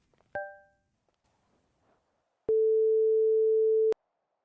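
An in-game phone call in the FiveM game gives a brief click, then a single long steady electronic tone of about a second and a half, with no one talking.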